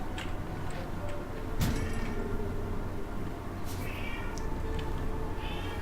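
A cat meows a couple of times during a board game session, short near calls over a steady ticking clock in a quiet room.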